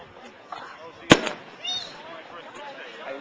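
A beach fireworks display at Jamestown, with one sharp, loud firework bang standing out from a quieter crowd murmur, while people talk faintly nearby.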